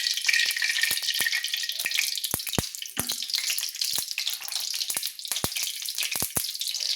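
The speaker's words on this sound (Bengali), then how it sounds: "তেলটা আমার গরম হচ্ছে।" Mustard oil heating in a pan, a steady bright sizzle and crackle running throughout with scattered sharp pops and spits, close and fairly loud, no voices.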